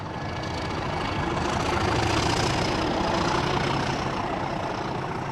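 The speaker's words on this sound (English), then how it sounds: "The growl of the 37 will be with us for longer." A British Rail Class 37 diesel locomotive engine growls at a steady, broad rumble, heard moderately loud and unchanging throughout.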